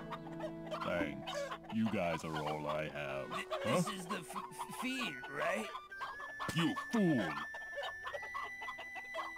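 Chickens cluck and chatter in the video game Black Desert Online, a busy run of clucks mixed with game music tones and a voice speaking over them.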